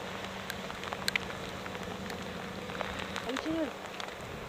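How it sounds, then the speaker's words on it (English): Steady rain falls around Urquhart Castle in Scotland on a cloudy day, a constant hiss of drops on surfaces with a few faint brief background noises. "On a cloudy, rainy day in Scotland, the Urquhart Castle area."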